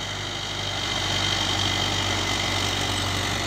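A Mahindra Arjun 555 DI tractor engine runs steadily close by, a continuous low, rumbling drone with even vibration and no speech throughout.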